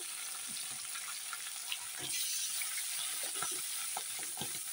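Rohu fish heads fry in hot oil, giving a continuous hiss of sizzling broken by small scattered pops and clicks. There is no talk.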